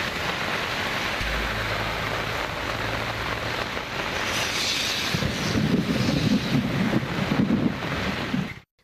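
Heavy rain falling steadily around Kallakurichi, a dense continuous wash of drops on surfaces with some wind noise, growing slightly fuller and more intense in the second half before cutting off.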